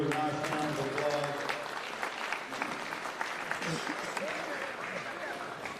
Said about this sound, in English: congratulate the kids here with a nice round of applause.